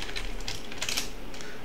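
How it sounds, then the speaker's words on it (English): A message to ChatGPT is typed on a computer keyboard in a web browser: a steady stream of close, rapid keystrokes with no talking. "right here we can start typing some messages to ChatGPT"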